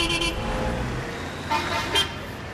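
Car horns toot in busy street traffic, a few short beeps rising over a steady roadway rumble at middle distance.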